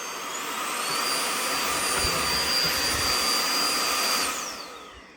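A Bosch cordless vacuum cleaner runs on its turbo setting, a close, steady high-pitched whine and airy roar that holds evenly for several seconds and then winds down at the end, with no voices.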